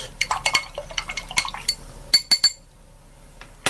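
Stirring in a pot or dish: a rapid cluster of close clinks and scrapes of a utensil against the vessel with a faint liquid slosh, then a few last taps before quiet.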